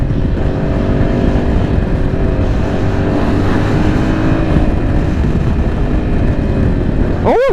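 A Yamaha R7 motorcycle on its first ride, its engine a loud, steady drone that holds near and constant throughout, ending with a brief rising tone.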